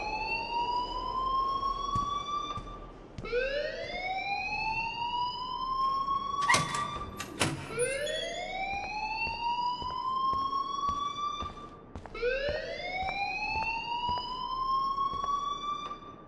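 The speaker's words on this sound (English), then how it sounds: "please turn off that alarm since that's your job" A school fire alarm in the video game Life is Strange sounds in repeated rising, siren-like sweeps, loud and continuous, with a brief clatter partway through.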